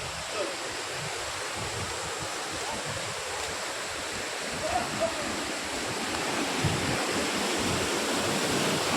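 Steady rushing water roars without a break, a broad hiss like a waterfall near Rangana Fort in Konkan, fairly distant and even throughout.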